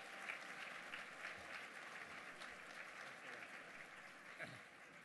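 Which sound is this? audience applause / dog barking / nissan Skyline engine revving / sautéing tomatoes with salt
audience applause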